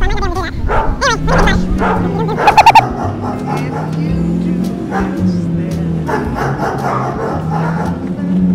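Dogs barking and yipping nearby in rapid bursts, with a whimper and birds in the background, all under a voice talking or singing throughout.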